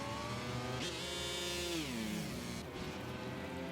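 Motorbike engine whining at high revs as the rear wheel spins in the MotoGP 25 racing game, a steady loud roar with pitch rising then sliding down, continuous with no talk.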